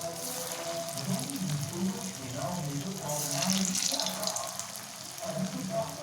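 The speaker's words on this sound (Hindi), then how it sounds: "गर्म होने के बाद एक एक करके मंचूरियन का बॉल फ्राई करते हैं" Veg Manchurian balls sizzling in hot oil, added one by one to a pan and fried over low heat, a steady close crackle and hiss with faint clinks running throughout.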